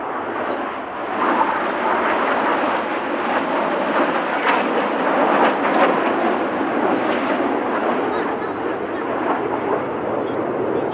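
Red Arrows display jets fly in formation at an airshow, a broad roaring rush of jet noise that rises and falls steadily overhead, with a crowd or commentary voice faintly mixed beneath.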